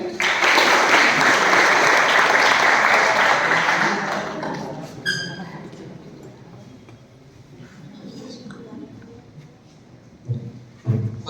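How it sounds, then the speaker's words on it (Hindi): An audience at a results celebration breaks into loud, dense applause for the next speaker, holding steady for about four seconds before fading into scattered claps and room noise. "जोरदार ताली।"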